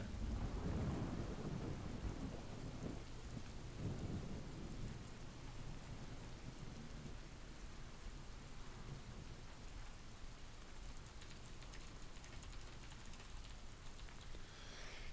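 Recorded steady rain with a rolling thunder rumble early on, soft and distant overall, rain pattering continuously on surfaces with no voices.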